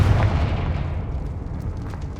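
A Confringo fire blast spell explodes in Hogwarts Legacy, a single heavy, close boom that starts loud and rolls off into a low rumbling decay.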